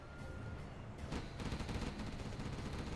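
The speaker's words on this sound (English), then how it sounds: "SiZe coming in with artillery" Artillery fire during a live Grand Masters 2025 real-time strategy match between SiZe and Ganja, heard as a dense, continuous barrage of booming, crackling shots that swells louder around the middle and stays heavy to the end.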